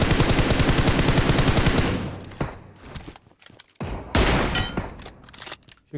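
Rapid bursts of automatic gunfire from a distance in PUBG Mobile, loud and dense for about two seconds, then scattered sharp single shots and short volleys with pauses between, with no talking over them.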